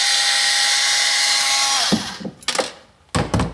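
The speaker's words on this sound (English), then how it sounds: "So I'm actually gonna have to unscrew them to get these to come off." A power drill whines steadily for about two seconds while backing out cabinet hinge screws, then winds down into a few short scraping and clattering knocks.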